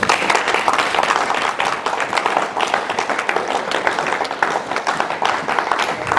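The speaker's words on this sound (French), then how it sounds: "On acclame le Seigneur." A church congregation claps and applauds in praise during a sermon, dense steady clapping filling the room for several seconds with no speech over it.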